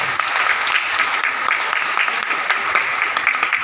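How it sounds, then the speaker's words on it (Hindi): Audience applause at an LIC insurance meeting in Kanpur, with steady dense clapping from a crowd filling the whole stretch, loud and close, with no talk over it. "अपने लिए ताली तो बजाइए"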